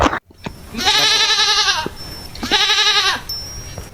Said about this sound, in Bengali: এগুলো ছাগল